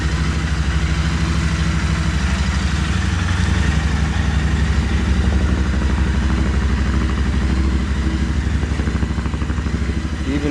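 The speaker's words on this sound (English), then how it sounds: "It's idling a little high because it hasn't been started in 2 weeks." Royal Enfield Continental GT 650 twin-cylinder engine idling slightly high after two weeks unstarted, a steady close, even putter with light mechanical clatter running unbroken throughout.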